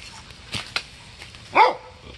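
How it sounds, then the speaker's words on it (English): A single dog barks once at moderate distance, a short sharp yap following a couple of faint thumps, amid quiet background in a home where orchids are kept. "my pup's going crazy"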